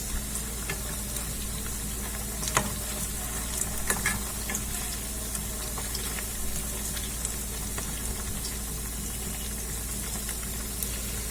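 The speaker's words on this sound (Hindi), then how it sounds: "इस तरीके से हमें सारी बॉल्स को फ्राई कर लेना है गोल्डन ब्राउन।" Malai kofta balls deep frying in hot oil until golden brown, giving a steady close-up sizzle and bubbling with occasional louder pops and stirring clinks throughout, with no talking.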